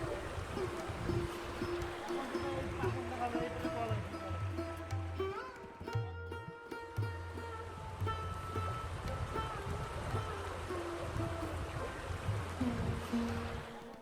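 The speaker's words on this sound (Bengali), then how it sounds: "পানির মানে স্রোতের" A river current rushes steadily at the Singimari bridge, water flowing over rocks in a continuous broadband wash that lasts the whole stretch, with a faint tonal hum running beneath.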